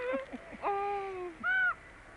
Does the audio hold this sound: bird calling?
yes